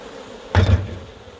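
Honeybees buzz steadily around an opened Langstroth beehive with Hoffman frames in Corsica, with a soft continuous drone under a brief sharp knock from the wooden hive parts.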